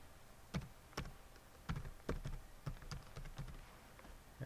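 Quiet keystrokes on a computer keyboard as a password is typed, a dozen or so distinct clicks in an uneven rhythm, close and alone with no talk.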